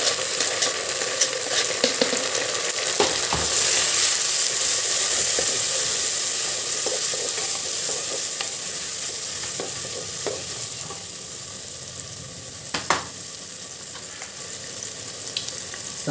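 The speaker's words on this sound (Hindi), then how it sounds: "इसी में डालते हैं हम हरी मिर्च और टमाटर चॉप किए हुए।" Green chillies and chopped tomatoes go into golden-browned onions in a hot pan, giving a continuous close sizzle and frying hiss with occasional stirring scrapes and clinks, and no talking.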